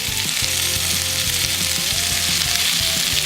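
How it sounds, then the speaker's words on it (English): Spinach sizzles and fries steadily in butter in a hot pan, a constant close crackling hiss with occasional soft stirring scrapes. "We're gonna start by sauteing up the spinach in a little bit of butter"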